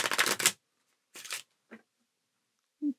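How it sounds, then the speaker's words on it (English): A few quick bursts of tarot cards being shuffled close by, one long riffle followed by shorter flicks and a soft tap, with silence in between. "give it a couple of good shuffles"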